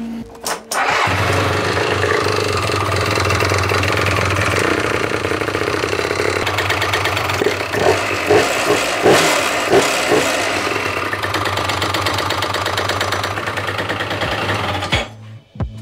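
A Yamaha Smax scooter engine runs steadily at idle after its cooling system has been filled, a close, loud continuous drone with a few brief rises in revs midway before it cuts off near the end.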